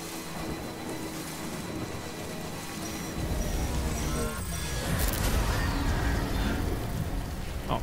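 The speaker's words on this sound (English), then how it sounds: "Oh, it's raining here." Steady rain pours across an outdoor landscape in the video game Death Stranding, a broad continuous hiss that thickens partway through, with a few soft rumbles and no talking.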